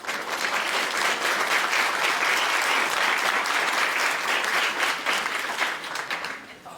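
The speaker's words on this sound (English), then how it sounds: "And one more round of applause for our legislators." Audience applause for legislators at a League of Women Voters legislative forum, sustained dense clapping from a room of people, steady and loud throughout before tapering slightly at the end.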